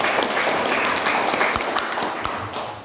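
A room of teacher candidates applauds together at a training session, with brisk, dense clapping that gradually thins out toward the end.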